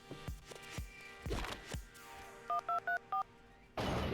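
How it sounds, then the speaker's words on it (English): Phone keypad tones in the video game Danganronpa 2, four short evenly spaced dial beeps following a few soft clicks and rustles, then a burst of hiss at the end. "What are we typing on the phone?"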